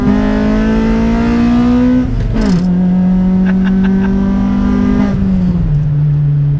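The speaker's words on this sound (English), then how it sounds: "you can enjoy more of the Vtec and the exhaust" A Honda VTEC car engine drones loudly at sustained high revs, its pitch holding then dropping twice as gears shift, with a raspy exhaust note throughout.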